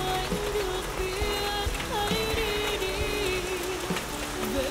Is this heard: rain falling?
yes